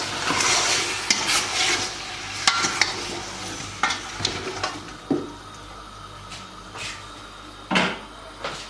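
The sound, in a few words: meat frying with salt and turmeric for couscous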